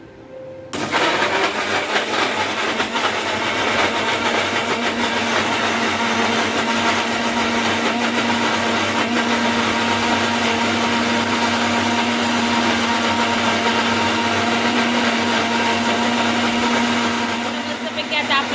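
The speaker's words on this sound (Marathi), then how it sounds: "मस्तपैकी मिक्सर लावून घेतलेला आहे आता चालू करून घ्यायचं आहे" A kitchen mixer grinder whirs loudly and steadily as it blends sweet lime (mosambi) juice, starting abruptly and running at an even, high-pitched drone for nearly the whole stretch before easing off at the end.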